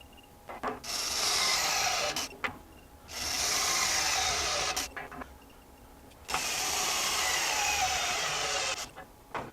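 A Ridgid R86012 mid torque cordless impact wrench hammers a large fastener in reverse, firing in three long, loud rattling bursts separated by brief pauses.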